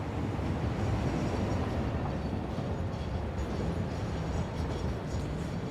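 Train in Satisfactory, a continuous heavy rumble with rolling wheel noise, steady and moderately loud throughout with no voices.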